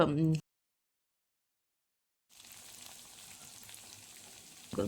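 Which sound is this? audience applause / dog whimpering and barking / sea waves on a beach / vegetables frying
vegetables frying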